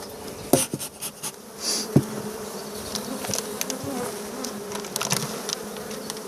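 Honeybees buzz over the frames of a lounger-type hive during spring expansion, a steady close hum broken by sharp clicks and knocks of frames being handled.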